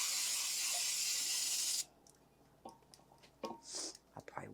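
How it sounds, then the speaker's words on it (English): A loud, steady hiss of Baker's Joy flour baking spray onto a tube cake pan for nearly two seconds, then cuts off, followed by quiet scattered handling clicks and rustles. "get you some baking spray, the Baker's Joy with the flour in it"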